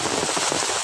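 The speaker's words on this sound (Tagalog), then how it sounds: "Super lakas ng ulan po." Heavy rain hisses down in a mangrove area in Eastern Samar, a dense, loud, continuous wash of drops striking surfaces nearby, with no voices.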